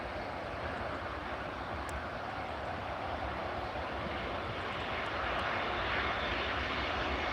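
An easyJet airliner at Edinburgh Airport, its jet engines giving a steady, distant broadband roar that swells slightly toward the end, with no talk over it.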